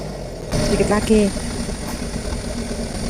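A truck stuck in mud in the middle of an oil palm plantation drones steadily with its engine running, a close, constant rumble that briefly swells while people call out to each other over it.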